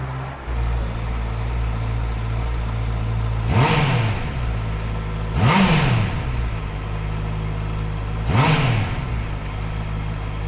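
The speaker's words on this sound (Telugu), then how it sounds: "ఇన్లైన్ 4 ఎంత స్మూత్ ఉంది సౌండ్." An inline-four superbike engine idles steadily, then is revved in three sharp, loud bursts spaced a couple of seconds apart, each rising and falling back to idle, with no talking.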